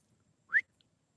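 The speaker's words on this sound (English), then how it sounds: "Oh, I heard the whistle." A single short rising whistle sounds once, fairly faint and alone against near silence, followed by a tiny faint blip.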